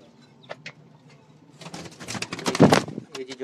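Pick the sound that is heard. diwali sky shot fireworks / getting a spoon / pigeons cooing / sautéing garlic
pigeons cooing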